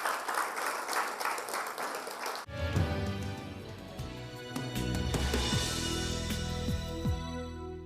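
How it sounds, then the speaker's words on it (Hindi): Audience applause at a college panel discussion event in India, starting as broadband clapping noise and then joined by loud music with a steady beat that continues over the clapping through the rest. "जिनके लिए बहुत जोरदार तालियां।"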